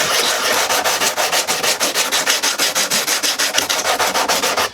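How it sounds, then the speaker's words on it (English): Rhythmic, steady scraping of a 3M 60-grit coarse sanding sponge rubbed back and forth over styrofoam, close and loud, roughly four to five strokes per second with no talking. "it sands down the styrofoam pretty good"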